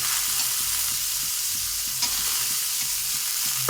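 Soaked chickpeas fry in hot oil with turmeric, a constant dense sizzle broken by rhythmic spoon scrapes against the pan, close and even throughout with no voices.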